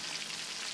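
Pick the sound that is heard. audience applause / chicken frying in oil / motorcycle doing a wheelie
chicken frying in oil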